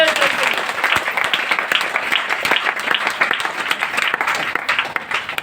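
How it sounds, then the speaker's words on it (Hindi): Loud, sustained audience applause fills a meeting hall, dense clapping running steadily from start to finish with no pauses. "एक जोरदार ताली बजाइए"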